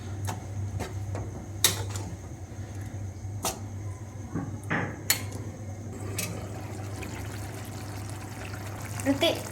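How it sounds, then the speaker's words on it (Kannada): Water is poured into a small glass in a kitchen, with a trickling fill and a few sharp clinks of glassware over a steady low hum, fairly faint and close by. "ಒಂದು ಸಣ್ಣ ಲೋಟದಲ್ಲಿ ನೀರನ್ನು ಹಾಕಿ"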